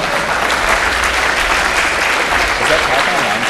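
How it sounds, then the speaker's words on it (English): An audience applauds after a lightning talk. Many hands clap in a dense, steady roar that fills the room without a break and stays loud and close throughout. "Let's give her a round of applause"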